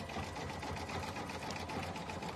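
A sewing machine runs steadily while stitching a mini quilt, with a continuous close mechanical hum and rapid needle rhythm and no pauses.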